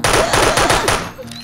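Rapid bursts of gunfire in the video game Minecraft rattle out loud and close, a quick string of sharp shots that stops abruptly, leaving a faint tone.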